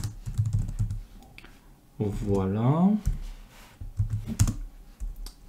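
Rapid clicking from a newly swapped computer keyboard while coding a React project, a sparse patter of keystrokes heard under a man's speech.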